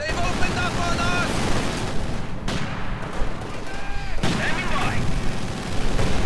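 Mortar rounds and gunfire in the video game Company of Heroes 2, in a Soviet versus German 1v1 match: a dense, continuous battle din of rapid shots and booming artillery thumps, with faint in-game voices mixed in.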